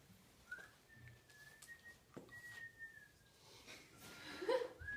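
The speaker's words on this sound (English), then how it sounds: "Are you whistling?" Faint, thin whistling holds a long steady note, then breaks into a few short chirpy whistles, quiet against a soft background.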